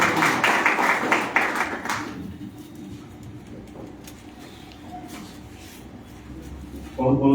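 An audience at a political gathering of a national Muslim front claps briefly for about two seconds, a moderate burst that quickly dies away into room noise before a voice begins.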